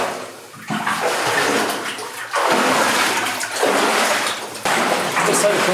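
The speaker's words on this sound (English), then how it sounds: "I can hear water running underneath us" Water rushes steadily beneath a hard-rock mine passage, a broad hissing flow that echoes off the stone, swelling and dipping in a few surges over several seconds.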